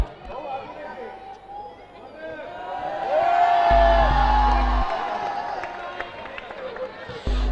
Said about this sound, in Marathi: पीपीएल साठी एकदा जोरदार टाळ्या झाल्या पाहिजे